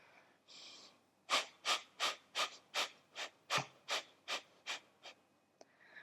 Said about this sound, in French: on inspire par le nez. Jusqu'à la fin de ton expiration.